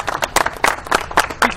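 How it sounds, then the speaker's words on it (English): Audience applause at a gathering hosted by a state delegate, with a brief burst of rapid hand claps from a moderately sized crowd, close and fairly loud. "Let's give him a round of applause."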